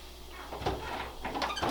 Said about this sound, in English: We're going to crack the door